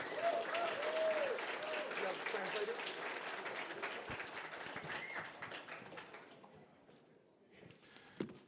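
A crowd applauding and cheering at a boxing press conference, loud and continuous at first, then thinning toward the end, with shouts mixed in.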